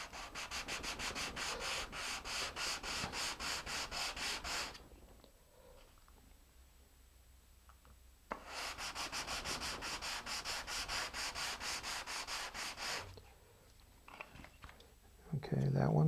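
Sandpaper rubbing back and forth along the beveled wing edges of a balsa rocket glider, in two long bursts of rapid, steady strokes close to the mic, separated by a quieter pause with faint handling noises.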